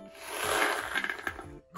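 A pile of saved coins being poured and shuffled, a loud close jingling clatter of many coins sliding together.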